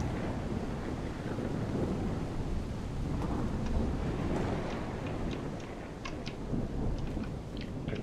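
Steady rain and wind noise roar with low rumbling thunder in the video game The Solus Project, no voices, continuous throughout.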